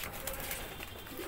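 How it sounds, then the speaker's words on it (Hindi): A pigeon with a blocked crop, handled up close, coos faintly under a hiss of steady background noise. "ये देखो ये कबूतर है"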